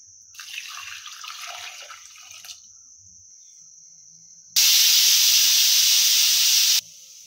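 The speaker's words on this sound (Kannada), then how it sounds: "ಒಂದು ವಿಷಲ್ ಬಂದಿದೆ, ನಾನು ಸ್ಟವನ್ನು ಆಫ್ ಮಾಡ್ಕೊಳ್ತಾ ಇದ್ದೀನಿ." Pressure cooker with tomato and water inside lets out a whistle, a thin sustained tone with sputtering steam, then after a pause a loud, full burst of hissing steam lasting about two seconds.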